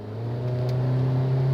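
The 1.5-liter turbocharged engine of a 2019 Mitsubishi Eclipse Cross revs up, a steady close hum rising slightly in pitch and volume over a short stretch.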